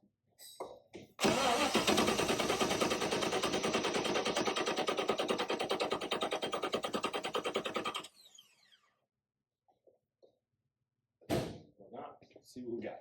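A Chevrolet Nova engine cranks over during a compression test, a loud, even starter chug held for about seven seconds without catching. Silence follows, then brief voices.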